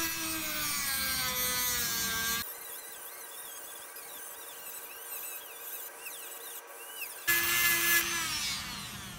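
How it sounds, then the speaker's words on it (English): Dremel rotary tool grinding down metal filler on a Shovelhead motorcycle part, a high-pitched whining buzz that starts loud, drops to lighter rubbing, then surges again near the end. "so we'll hit it now with the Dremel"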